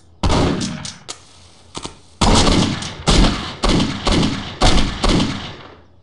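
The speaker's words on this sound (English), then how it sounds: "Hell no, you did not just shoot me." Gunfire in Postal 2: a string of loud, close, sharp shots with a few isolated bangs early on, then a rapid series of heavy blasts each trailing off briefly, with no talking.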